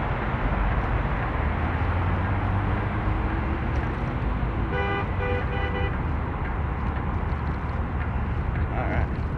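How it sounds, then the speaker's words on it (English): A car horn honks in a short burst of a few blasts over steady, loud roadway traffic noise in Puyallup, with vehicles rumbling past throughout. "See how many people honk. I have a horn. I intend on honking."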